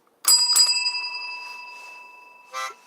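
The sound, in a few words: ringing a bell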